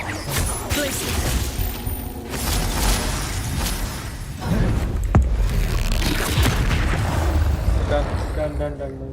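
The Confringo spell in the video game Hogwarts Legacy goes off in loud booming blasts with crashing debris amid busy combat effects, over a dense continuous game backdrop.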